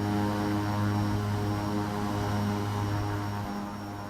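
An Embraer 110 propeller aircraft climbs through about 7,000 feet, its engines giving a loud, steady, droning hum with layered tones that stays unbroken throughout, heard from inside the aircraft.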